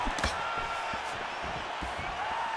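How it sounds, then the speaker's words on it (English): Steady crowd roar from the EA Sports UFC 5 fighting game, loud and continuous, with sharp impact thumps near the start and scattered hits under it as strikes land. "you hear the crowd react every time they come together"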